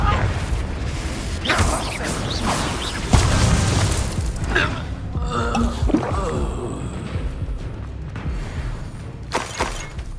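Explosive spell blasts and magical bursts from a fight in the video game Hogwarts Legacy, with booming impacts, crackling shatters and gasps layered densely throughout.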